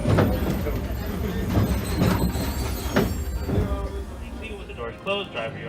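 Disneyland Railroad train pulling into Main Street Station at night, a rumbling, clanking steam train with wheel and brake noise as it slows, heard alongside a voice.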